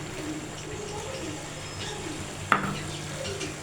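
Potatoes and eggs are stirred in a frying pan, a soft, steady sizzle running throughout with a light scrape of utensil on the pan and one sharp clink near the end.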